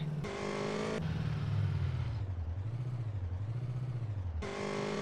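A small video-game moped engine drones steadily, its pitch rising and dipping in waves as it revs, with a brighter buzzing tone at the start and end.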